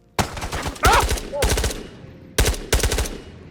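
Bursts of automatic gunfire ring out in the VR shooter Ghosts of Tabor, several loud rapid volleys separated by short pauses, close and punchy with no talking.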